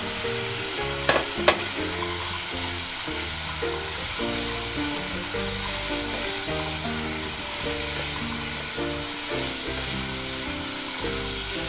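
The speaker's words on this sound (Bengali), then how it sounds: "এবার আমি আলু ভেজে রেখেছিলাম, আলুটা মটরশুঁটিটা দিয়ে দেবো।" Fried potatoes and peas hiss in a pan of frying spice paste for a drumstick flower sabji, a loud, constant close sizzle broken by rhythmic stirring scrapes and a couple of sharp clicks near the start.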